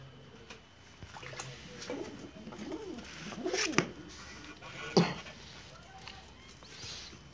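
Racing pigeons coo softly, several low, rolling calls rising and falling in short bursts against quiet background noise, with a couple of brief knocks.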